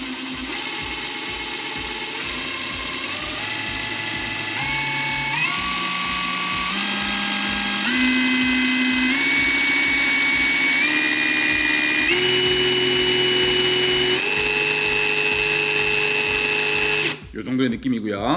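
Stanley compact impact driver run with the trigger squeezed very slowly, its motor whine climbing in steady stepwise pitch over a rattling hammer pulse, loud and close, before stopping abruptly near the end.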